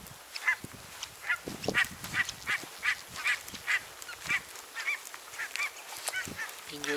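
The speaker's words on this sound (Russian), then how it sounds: "и уточки тут крякают" Waterfowl calling outdoors in Kosterhavet National Park in Sweden in light rain, a series of repeated honking quacks at an irregular rhythm, moderately distant and faint.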